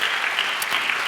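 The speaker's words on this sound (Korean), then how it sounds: "우리 하나님께 우리 감사와 영광의 박수를 한번 올려드리겠습니다" A church congregation claps together at a Sunday service, a brief, dense burst of applause that fills the space evenly at close range.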